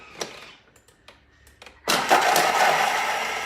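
A Thermomix chops peeled ginger and garlic, its motor kicking in abruptly with a loud steady high whirring after a few soft clicks and taps.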